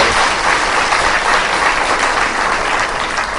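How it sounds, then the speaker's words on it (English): Audience applause for a presenter at a hair cut and color show, a loud, dense and even roar of clapping from a sizeable crowd that continues throughout. "How about a big round of applause for Rich?"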